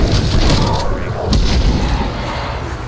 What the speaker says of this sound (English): He's shooting at the half track over there